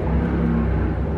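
A loud car engine idles nearby in a kitchen setting, a steady low rumble and whir that holds evenly throughout the short stretch with no talk over it.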